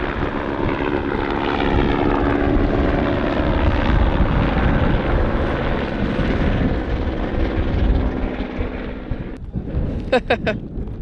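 A helicopter's engine and rotor roar loudly and steadily nearby, then suddenly drop away, leaving short chopping blade pulses.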